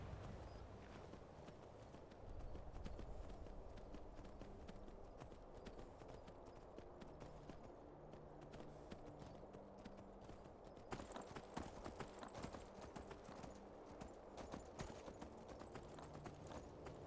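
Horse hooves clip-clop steadily and rhythmically at a walking pace in the video game Skyrim, close and continuous, over a low ambient game background.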